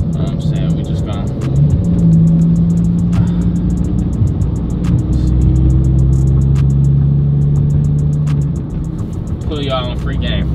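A Pontiac G8's engine rumbles loudly and steadily with a deep low drone, nearby, while people talk over it.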